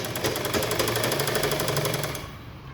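A sewing machine stitches a cross patti blouse in a fast, even mechanical chatter that runs steadily for about two seconds, then stops, close and clear.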